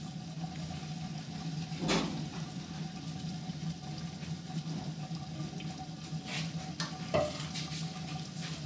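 About a kilogram of semolina roasting in hot ghee for egg halwa: a soft, continuous sizzle with occasional louder scrapes of stirring, faint and without talk.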